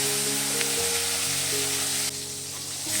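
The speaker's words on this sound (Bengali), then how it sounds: "এবারে আমরা এর মধ্যে দিয়ে দেব একটা বড় সাইজের টমেটো কুচি।" Chopped tomato sizzles steadily as it fries in hot oil for a fish-head moong dal, with a continuous close frying hiss that softens partway through and no voices.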